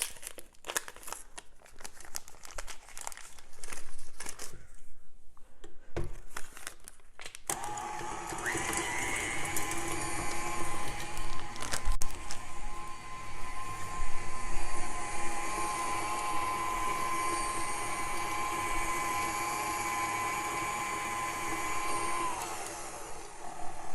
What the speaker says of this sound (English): We're going to start out by creaming our butter.